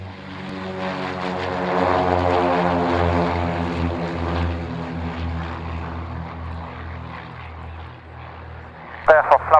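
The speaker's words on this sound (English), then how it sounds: "That's the Vulcan we were talking about." Avro Vulcan XH558 delta-wing bomber powering up for takeoff, a loud sustained engine roar with strong low harmonic drone that swells then eases, a few sharp bursts near the end; voices speak over it.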